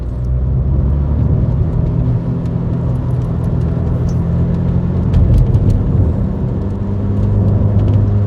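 Steady engine drone and road rumble from inside a moving Rover Tomcat coupe with a two-pedal transmission, a continuous low hum with slight swells as it pulls along.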